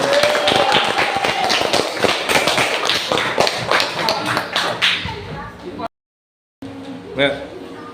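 Classroom of pupils clapping hands together after an Indonesian lesson, a dense, sustained patter of many claps over room noise, stopping abruptly before a brief quiet gap and then room sounds.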